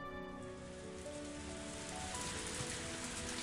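Heavy rain downpour from the Higurashi video game, a steady dense hiss of drops on surfaces with faint soft tones underneath, continuous and unbroken throughout.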